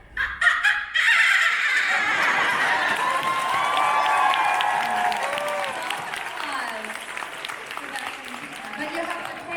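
At a comic convention panel for a stage musical, a performer lets out high, warbling squeals imitating a dolphin cry, with rising and falling pitch, over crowd cheering and applause that carry on beneath it.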